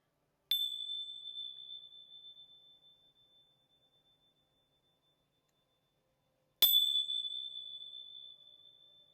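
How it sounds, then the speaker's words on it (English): A small bell is struck twice, about six seconds apart; each strike rings out clearly and decays slowly into silence before a prayer. "Let me ring my bells real quickly"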